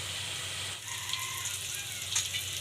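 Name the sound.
cauliflower frying in a pan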